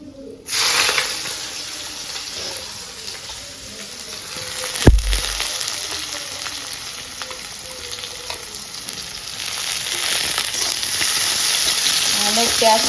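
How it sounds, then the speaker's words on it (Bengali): Onions, cumin and fenugreek fry in a pan with a bright continuous sizzle that swells as they hit the oil, with a sharp clack of a utensil midway and occasional stirring, close and loud. "পেঁয়াজটাকে ভালো করে ভেজে নিই"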